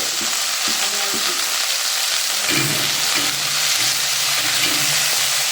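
Finely chopped onions with a little salt sautéing in a pan, a loud continuous sizzle and hiss close up, with occasional soft stirring and scraping beneath it.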